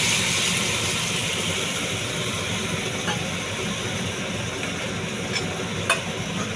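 Spice paste hitting hot oil in a pan with fried eggplant, cooked for a Bengali pabda fish curry, gives a steady close sizzle with faint scraping stir sounds and a couple of sharp clinks near the end.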